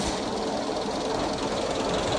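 Gibson forklift engine running steadily after starting, a faint, even mechanical chatter with a fast ticking rhythm, heard alone at moderate distance.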